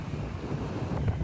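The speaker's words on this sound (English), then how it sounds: "There is a lot of waves here." Surf rolling in at Shark Bay beach on Koh Tao, Thailand, a steady low wash of waves mixed with wind buffeting the microphone, with no voices.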